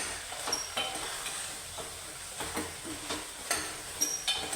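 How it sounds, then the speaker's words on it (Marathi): Ridge gourd and beans sautéing in a pan with a light, steady sizzle, broken by occasional stirring scrapes and soft utensil taps, fairly faint and close. "आता आपण ह्याच्यामध्ये हा कापून घेतलेला दोडका घालूया तो दोडका पण छान परतून घ्यायचा आपल्याला"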